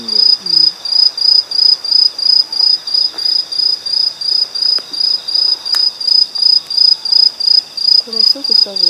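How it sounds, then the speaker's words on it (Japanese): A dense chorus of Aomatsumushi tree crickets chirps loudly and close at Akabane in Chigasaki, Japan, in a rapid, regular train of high-pitched pulses that carries through the whole stretch, with a murmur of voices briefly at the edges. "アオマツムシは強いよね。"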